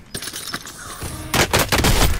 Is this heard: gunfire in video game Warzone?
yes